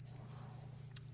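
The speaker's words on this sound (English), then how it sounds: "ringing some bells" Bells ringing during a devotional ritual: a faint, high, sustained metallic tone hangs steadily with a couple of brief brighter strikes.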